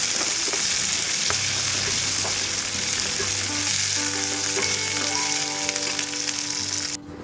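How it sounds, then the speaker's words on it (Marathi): Coriander and curry leaves frying in hot oil for chivda, a loud steady sizzle throughout with a low hum underneath, cutting off abruptly at the end. "मी कोथिंबीर आणि कढीपत्ता पण मस्त परतून घेतलेला आहे म्हणजे तळून घेतलेला आहे"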